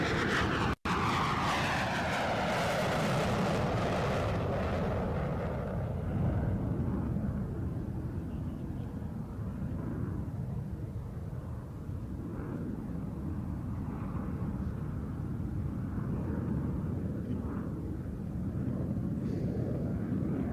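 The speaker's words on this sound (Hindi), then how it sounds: "आसमान में हैरत अंगेज कारनामे दिखाने के लिए मशहूर भारतीय वायुसेना के ये वायु योद्धा" Indian Air Force jets fly over Hindon airbase with a loud roar that sweeps downward in pitch as they pass. It fades into a long, rumbling jet-engine drone.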